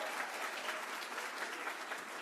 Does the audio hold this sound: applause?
yes